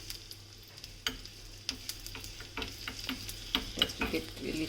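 Finely chopped ginger, cashews and curry leaves frying in ghee in a pan for South Indian ven pongal, a soft steady sizzle broken by scattered utensil scrapes and stirring clicks, close and moderately quiet.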